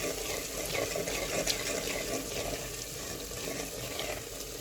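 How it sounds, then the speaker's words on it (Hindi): Water is poured into a traditional clay pot (matka) of cooking chicken masala with softened onions, giving a steady splashing hiss over a low sizzle, continuous and close. "थोड़ा सा पानी डाल लेंगे"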